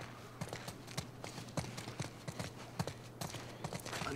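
Rapid hoofbeats clatter in an uneven galloping rhythm over a steady low hum, several horses running close by with no talking, in the video game The Last of Us Part II.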